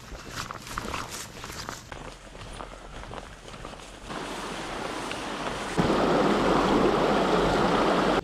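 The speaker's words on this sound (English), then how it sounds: "The creek here is low and clear." Footsteps crunch along the bank of a small, low, clear trout creek, then a steady broadband rush of flowing water swells louder and fills the sound.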